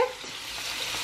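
A low, even sizzle of tomato and onion cooking in a heated pan, faint and continuous for a brief moment with no other sounds.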